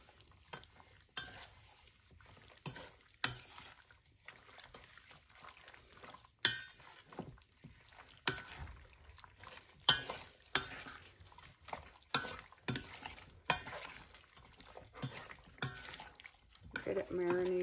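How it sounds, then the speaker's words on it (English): Marinated chicken, cabbage and noodles for a spicy stir fry are stirred by hand in a pan in place of a wok, with repeated clinks and scrapes of a utensil against the cookware in an irregular rhythm, up close and with no talking. "And then what we're going to do is stir it all up."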